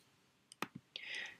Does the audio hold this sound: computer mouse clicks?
yes